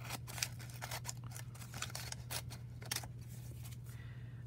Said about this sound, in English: just use these scissors.